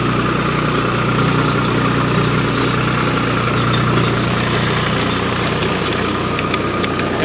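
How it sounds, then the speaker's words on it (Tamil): Tractor running a rotavator to plough a field, a loud, steady engine drone with constant low rumble and no breaks, heard alone. "ரொட்டேட்டரில் உழவு ஓடிட்டுருக்கோம் பாருங்கள்."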